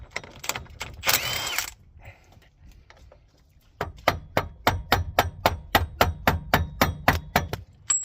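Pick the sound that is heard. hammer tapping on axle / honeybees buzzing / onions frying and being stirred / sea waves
hammer tapping on axle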